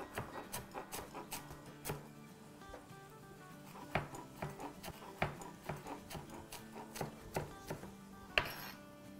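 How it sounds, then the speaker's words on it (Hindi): A knife chopping green chillies, coriander and mint on a board, a steady run of sharp close knocks in quick irregular rhythm, with a few louder hits and no talking. "चले, अब कुछ हरी मिर्चें काट लेते हैं इसमें।"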